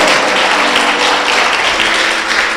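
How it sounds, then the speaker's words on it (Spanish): Congregation in a church service applauding together, a dense, steady wash of many hands clapping that fills the space throughout, with no speech over it. "¿Cuántos le pueden dar un fuerte aplauso al Rey de los cielos?"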